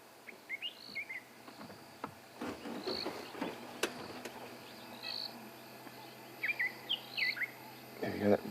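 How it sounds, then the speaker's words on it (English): A white-throated robin chat calls at sunrise on an African safari, giving repeated fluid chortling phrases at moderate distance, spaced through the clip over a bed of insect and bird background sound. "It is the white-throated robin chat."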